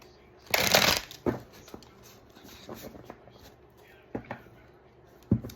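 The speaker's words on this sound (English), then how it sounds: "Let's pull some tarot." Tarot cards are shuffled in several bursts, one long riffle near the start followed by softer scattered shuffles and flicks, close and clear, with no talking.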